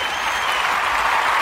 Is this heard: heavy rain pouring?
no